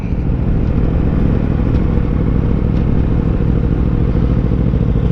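Aprilia RSV4 motorcycle being ridden down a side street, its engine a steady loud rumbling drone that holds constant throughout, close and with no talking over it.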